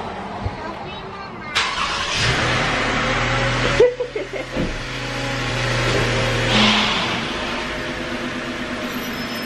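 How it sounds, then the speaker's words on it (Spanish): A car engine runs steadily as the car is moved, with a brief revving swell, while people talk nearby over the idling drone. "les dejo con Raquel para mover el carro."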